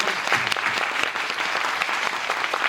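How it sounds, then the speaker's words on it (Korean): A theater audience applauds actor Kim Jong-gu at a musical's final-performance curtain call, a steady, dense clapping wash that fills the hall without pause. "김종교 배우님께 큰 박수 부탁드리도록"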